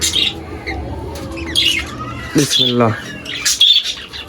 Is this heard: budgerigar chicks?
yes